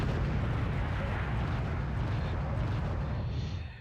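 Artillery shells land in a Wargame: Red Dragon battle as a heavy, continuous rumble of overlapping booms that stays loud and dense before tapering off at the end.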